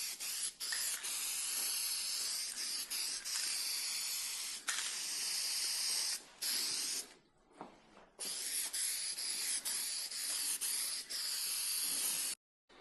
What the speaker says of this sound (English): So at the end of the day, this is just basically spray paint